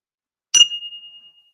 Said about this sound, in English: So there's a old rusty bell here.